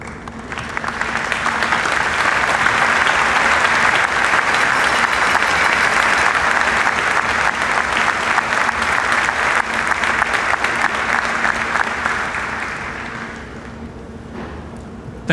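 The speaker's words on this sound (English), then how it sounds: "give them a resounding applause" Sustained, loud applause from a large audience at a university graduation and doctorate ceremony, honoring the standing faculty and staff; dense clapping swells in, holds steady for about twelve seconds, then thins toward the end.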